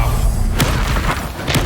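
Fire spells in the Hogwarts Legacy video game erupt in deep booming explosions, a heavy low rumble with sharp bursts near the start and end, loud and close.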